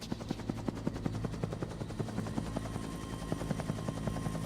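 Helicopter in the PS1 game Dino Crisis, a steady rhythmic chop of rotor blades, evenly pulsing and fairly quiet, continuing without pause.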